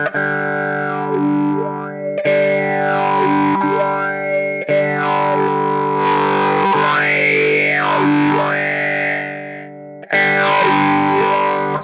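Electric guitar run through a distortion effects pedal that makes a vowel-like, talking tone, sustained chords and notes with sweeping formant swells, loud and close, broken by brief pauses between phrases.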